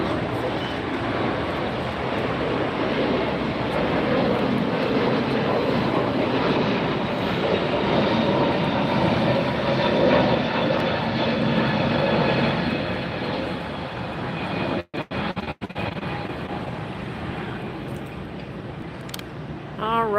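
Boeing 777-300ER jet of Swiss Air at LAX, just arrived from Zurich, produces a steady loud broadband engine roar throughout, with a brief dropout near the end.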